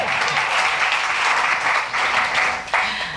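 Audience applause at a Broadway benefit performance, a dense, steady wash of clapping from a large crowd that runs the whole stretch, with one brief dip near the end.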